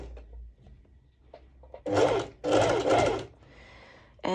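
Sewing machine stitching fold-over elastic onto a cropped top, a couple of short motor bursts of fast needle chatter after quiet handling noises, close and fairly loud.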